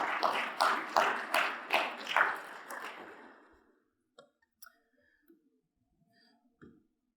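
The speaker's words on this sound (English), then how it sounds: "Cecilia's clapping in the back." A lone audience member claps at a tech conference talk: about eight crisp, evenly spaced claps that slow and fade, followed by a few faint scattered taps in a quiet room.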